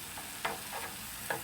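Frozen hash browns fry gently in a small camping pan, giving a soft, steady sizzle broken by a couple of brief stirring scrapes, close and quiet.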